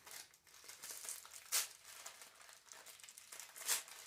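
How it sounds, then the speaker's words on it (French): Quiet crinkling and rustling of gift wrapping paper being opened, with a couple of brief sharper rips standing out; no voices. "j'ai ouvert, le papier s'est déchiré"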